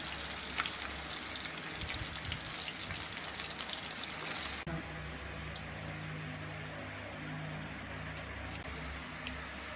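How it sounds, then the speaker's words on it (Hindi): Beef boti pieces frying in hot oil in a kadai give off a rain-like crackling sizzle, busier and more spattery at first, then settling into a quieter, even hiss, with no talk. "अब कढ़ाई में हमने ऑयल डालकर इसको गर्म कर लिया है। अब इसमें बोटियां डाल लेंगे।"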